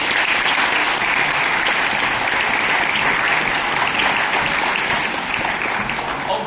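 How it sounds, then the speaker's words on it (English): A dense, steady round of audience applause at a kickboxing class, loud and sustained throughout with no speech over it. "Can we get round of applause?"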